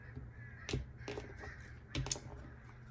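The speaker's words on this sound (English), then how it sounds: "Apparently the crows really wanted to hang out for your reading." Crows caw in the background outdoors, two separate bursts of harsh calls about a second apart, faint and distant against a low steady hum.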